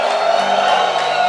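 A church congregation shouts for joy in a loud, sustained crowd roar of cheering and whooping voices.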